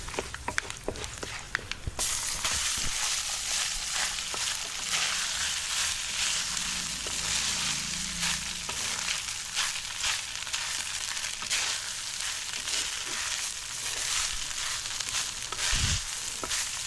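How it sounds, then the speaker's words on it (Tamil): Urad dal and peanuts frying in a pan, then cooked white rice added, a steady close sizzle that carries on throughout, with a brief clatter near the start and a thump near the end. "உளுந்து வேர்க்கடலை கொஞ்சமாக கலர் மாறுற வரைக்கும் வறுத்துட்டு இப்போ கலர் மாறினதுக்கப்புறமா இந்த ஸ்டேஜில் வடித்து வச்ச வெள்ளை சாதத்தை நான் சேர்த்துக்கிறேன்."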